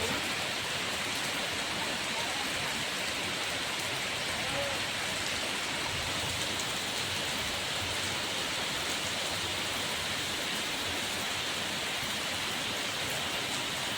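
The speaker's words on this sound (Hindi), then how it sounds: "बहुत तेज हो रही है बारिश है ताई।" Heavy rain pours steadily outdoors as a dense, continuous hiss of drops hitting surfaces, loud and close throughout with no letup.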